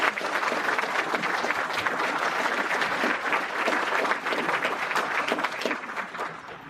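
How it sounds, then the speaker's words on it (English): Sustained applause from a sizable crowd at an awards ceremony, dense steady clapping that fills the space throughout and tapers slightly at the end. "let's give them a big round of applause"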